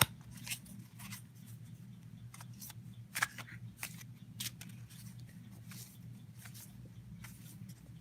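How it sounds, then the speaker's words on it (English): Tarot cards being shuffled and mixed by hand, a soft run of papery riffles and slaps that comes in scattered bursts over a low steady room hum, with no talk. "Okay, I'm now going to mix the cards."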